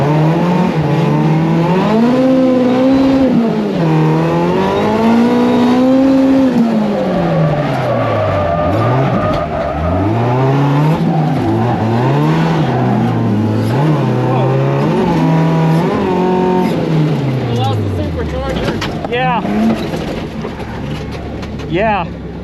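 Toyota AE86 drifting on a rain-soaked track, its engine loudly rising and falling in repeated revving sweeps close to the microphone as the car slides through corners.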